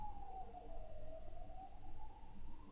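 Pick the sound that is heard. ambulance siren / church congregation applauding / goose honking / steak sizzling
ambulance siren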